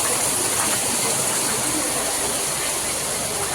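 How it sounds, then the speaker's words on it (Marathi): Dense, steady rush of heavy rain, loud and continuous throughout with no pauses or voices. "एवढा जोराचा पाऊस आलाय"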